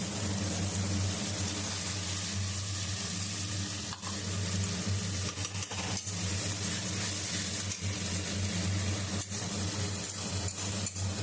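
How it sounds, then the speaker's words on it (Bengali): Ginger-cumin paste with onion, garlic and green and dried chili paste sizzles steadily in hot oil for a dhaba-style dal tarka, a dense continuous frying hiss with occasional stirring scrapes. "এবার আদা জিরা বাটা আর পেঁয়াজ রসুন কাঁচা লঙ্কা শুকনো লঙ্কার পেস্টটা দিয়ে দিব তেলে"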